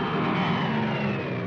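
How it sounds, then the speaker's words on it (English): A de Havilland Mosquito weather plane drones past with a steady, loud piston-engine roar, a continuous dense rumble holding even throughout with no break or speech. "Weather planes such as this Mosquito"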